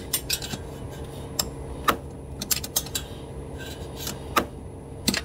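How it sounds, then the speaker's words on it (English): A 12mm wrench clicks and clinks against a side nut on an A/C line of a 2014 Kia Soul, giving scattered sharp metallic ticks at an irregular pace over a low, steady background hum. "12mm wrench, and we're gonna get this side nut here loosened."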